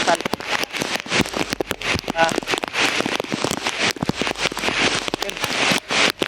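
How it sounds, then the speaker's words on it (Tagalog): Heavy rain pours down on a mountain hiking trail, a dense steady hiss with crackling drops, loud and close throughout, mixed with wind and handling noise. "grabe yung lakas ng ulan"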